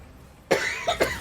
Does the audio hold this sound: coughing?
yes